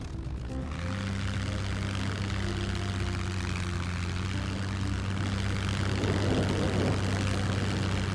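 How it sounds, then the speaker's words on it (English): A propeller airplane flying in the video game Scum, a steady droning engine hum that holds level throughout, close and continuous with no voices. "We'll hop back on the plane here."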